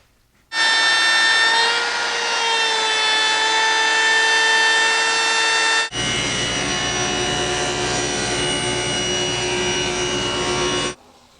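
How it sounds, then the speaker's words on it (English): Router on a trammel fairing a curve in wood, a steady high-pitched whine that starts abruptly, holds for about ten seconds with a change in tone partway as the bit cuts, then stops. "So I've got the pivot point set up for my router trammel. I'm just going to put that on there and fair this curve."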